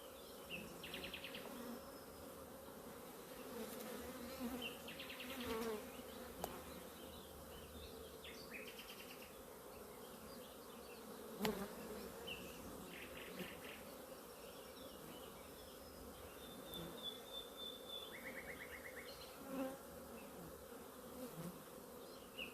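A dense, steady drone of many honeybees swarming around an opened, aggressive beehive, with individual bees buzzing close by in brief louder passes over the continuous hum.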